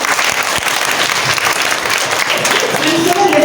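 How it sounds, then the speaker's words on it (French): A crowd at a cultural event applauds the performer Djoliba, a brief burst of loud, steady clapping with a murmur of voices underneath. "Encore applaudissez pour Djoliba"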